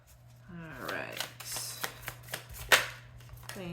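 Tarot cards being shuffled in a quick, uneven riffle of crisp papery snaps and flutters, close and moderately loud, with a person speaking over them.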